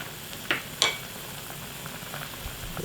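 A pot of spicy beef and soybean sprout soup bubbles at a steady low simmer, with a couple of brief sharp clinks of a utensil against the pot early on.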